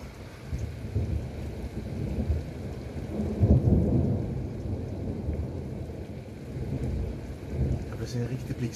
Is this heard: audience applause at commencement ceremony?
no